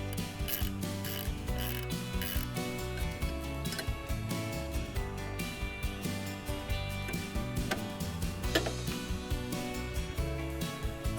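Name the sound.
removing lawn mower bolts with a ratchet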